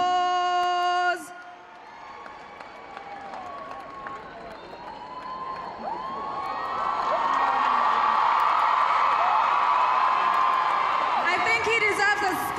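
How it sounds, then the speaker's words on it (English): At a memorial event a crowd breaks into applause and cheering that builds from faint to a loud, sustained roar with whoops, after music cuts off and a voice speaks over the start. "Let's give him a round of applause."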